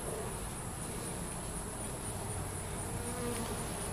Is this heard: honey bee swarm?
yes